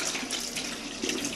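Tap water runs and splashes steadily while a polymer printing plate is washed with a bristle pad, a brief close hiss of flowing water.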